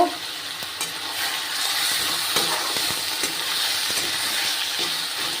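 Tengra fish frying with onion paste in a pan, stirred steadily: a loud, continuous sizzle with repeated scraping strokes of the spoon, close up and with no voices.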